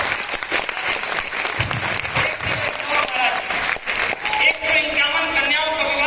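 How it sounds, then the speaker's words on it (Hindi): An audience at a kavi sammelan at Bageshwar Dham gives sustained, dense applause, a loud continuous clatter of many hands lasting the whole stretch, with a voice faintly mixed in. "जरा एक बार पीछे पर तालियां बजा करके इस बात पर"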